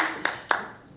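Two sharp, separate claps ring out at a live podcast taping about immigrant life, evenly spaced, close and distinct against a quiet room, with no cheering or talk alongside.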